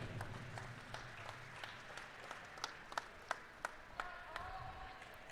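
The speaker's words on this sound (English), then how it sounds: "make a nice warm round of applause for their top three teams for event number 12, the men 800 free relay" Scattered, sparse hand claps at a swimming championship awards ceremony for the top three men's 800 freestyle relay teams, Illinois Swimming Senior Championships finals; individual claps ring out at intervals over a low hum of a large indoor venue.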